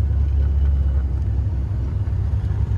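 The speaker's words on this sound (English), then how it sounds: "cruising at 65 to get her warmed up. It's a noisy cruise." An LT1 engine in a C3 Corvette cruises at highway speed, giving a loud, steady low rumble and drone mixed with road noise that holds constant throughout, with no talking.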